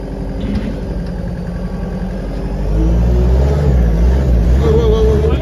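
A forklift engine idles loudly nearby, then rises midway into a heavier, sustained revving drone, with voices speaking over it.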